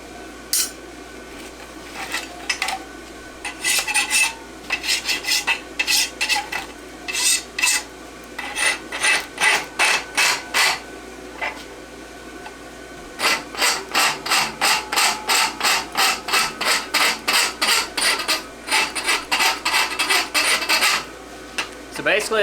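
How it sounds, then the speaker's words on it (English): A hand rasp files a forged steel French hind horseshoe in a quick, steady back-and-forth rhythm of gritty, scraping strokes, loud and close, broken by short pauses. "now we're just gonna finish this up by rasping it"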